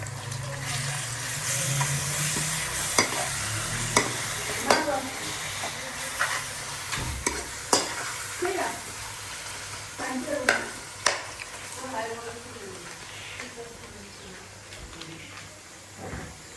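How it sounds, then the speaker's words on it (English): Dal fry being stirred in a pan, a sizzling frying hiss broken by repeated scraping and knocking strokes of the spoon against the pan, fairly close and moderately loud, ending a bit quieter. "And now we have to stir it."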